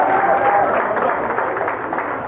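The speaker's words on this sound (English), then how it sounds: "Give yourselves a round of applause." An audience at an electrical construction company gathering gives a round of applause, a steady wash of clapping and crowd noise, fairly loud throughout.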